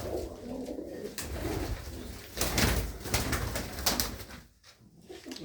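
Racing pigeons coo in soft, repeated throaty calls close by, with rustling and flutters in between.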